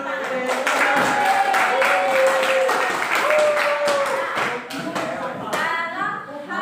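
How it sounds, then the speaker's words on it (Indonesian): A classroom group applauds, with steady clapping filling the room over several seconds while voices talk and call out over it. "Kasih tepuk tangan."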